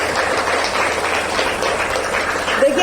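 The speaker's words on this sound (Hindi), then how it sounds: "पहले एक बार जोरदार ताली मैडम के लिए" An audience claps loudly for a woman being honoured at a gathering, a dense, continuous burst of applause that holds steady throughout.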